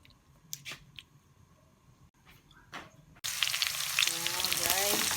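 Salted dried fish (daing) drops into hot oil with onion and garlic, a quiet start of faint clicks, then a sudden loud burst of crackling sizzle that continues steadily.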